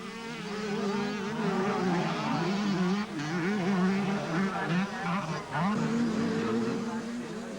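Schoolboy motocross motorcycles, including Kawasakis, race at an international event at Trentham Gardens in 1983. Several engines whine and buzz at once, rising and falling as the bikes pass, and they sound moderately distant under continuous commentary.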